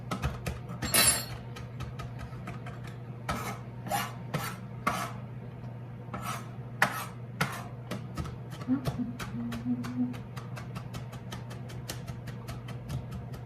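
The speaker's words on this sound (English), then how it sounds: "So just chopping that, you don't want really big pieces." Fresh rosemary chopped with a knife on a cutting board, a series of sharp, close taps in irregular bursts over a steady low hum, with brief talk in between.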